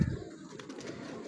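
Pigeons coo softly on a rooftop, a brief low murmuring from the birds at moderate distance with no other sound over it.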